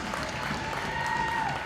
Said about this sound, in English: We'll get a hand from the crowd.